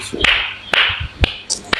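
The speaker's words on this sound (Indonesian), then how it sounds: "Tepuk tangan dulu." A few sharp claps ring out at a steady pace over a hissy background, sparse rather than a full round of applause.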